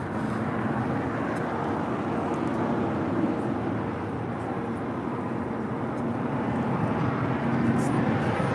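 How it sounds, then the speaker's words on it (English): Broad steady jet rumble from an Alaska Airlines Boeing 737 MAX 9 in Orca livery pushing back from a Terminal 6 gate at LAX, a constant distant roar with a voice talking over it. "that 737 MAX 9 will be pushing back from the gates of Terminal 6"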